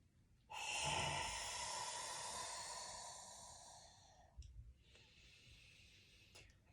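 A person takes a long, close breath during a yoga exercise, a loud airy inhale followed by a softer second breath, alone in a quiet room.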